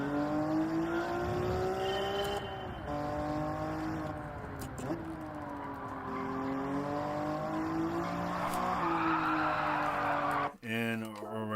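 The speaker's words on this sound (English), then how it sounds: "And already spun out." A 1992 Honda NSX Type R at Interlagos in Gran Turismo 7 howls with a steady high engine note that dips and swings as the car loses grip and spins, ending in a brief cut and a fresh rev at the close.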